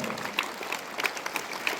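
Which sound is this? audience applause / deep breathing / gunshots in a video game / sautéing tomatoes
audience applause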